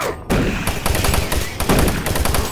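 A chain gun in Doom 3 fires a rapid, steady stream of loud, close shots for about two seconds after a short lead-in.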